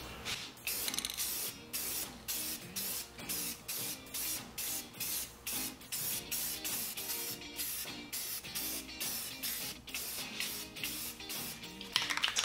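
Spray paint lightly coats pumpkins being made into candles, heard as a rapid run of short, loud hissing bursts in a steady rhythm, close by, with no talking.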